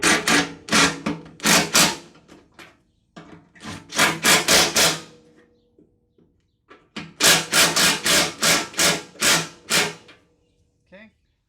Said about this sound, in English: And then all I do after that, just tighten these guys up.